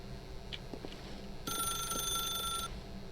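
Telephone ringing in the video game The Stanley Parable, a bright electronic ring that sounds for about a second mid-clip over a low hum, with a couple of soft clicks before it and no talk.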